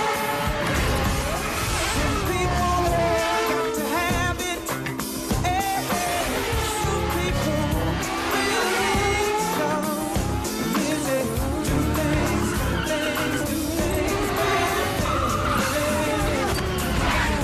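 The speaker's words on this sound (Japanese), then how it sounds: "マシンをフルスピードのままスライドさせてタイヤでコインを3つ拾っていくんだ。" CART race car sliding at full speed with tires squealing and skidding continuously, engine roaring underneath, loud and close, with a dense layer of music or effects running throughout.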